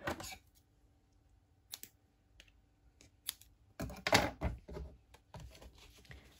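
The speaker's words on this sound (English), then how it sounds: "I'm just going to trim it down a bit" Scissors trimming excess string on a paper craft pocket: a handful of quick, close snips and clicks scattered through near silence, with a busier cluster of cuts toward the end.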